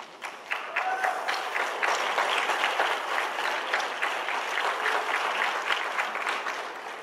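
Conference audience at the Ponte al 100 international forum applauding after a talk, a full steady burst of clapping that rises quickly and continues for several seconds.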